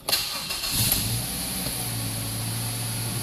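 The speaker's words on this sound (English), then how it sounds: "we're going to sit inside the car, the key in ignition, turn it on." A Mazda 3 car engine cranks and catches, then settles into a steady idle with a faint high whine, heard from inside the car with no talking.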